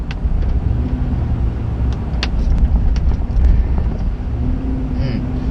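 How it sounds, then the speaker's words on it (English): Chevy Silverado 2500HD pickup fitted with an S&B air intake, a deep steady throaty rumble from inside the cab as the truck drives, with faint clicks and rattles over the drone. "I really like that throaty intake note that an air filter system like this gives you"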